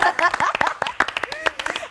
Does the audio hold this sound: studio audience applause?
yes